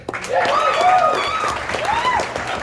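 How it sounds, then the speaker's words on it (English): Audience at a big band concert applauds a musician, steady clapping filling the space while cheers and whoops from the crowd rise over it. "Give them a nice round of applause"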